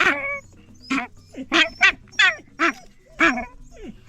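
A village dog in Zimbabwe gives a series of close, whining whimpers and short yelping barks in uneven bursts, with a low background hum between the cries.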